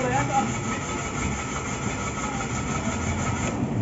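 A stored Mitsubishi Mirage G4 engine that will not start is cranked: the starter gives a continuous, rapid churning rhythm that holds steady for several seconds without catching.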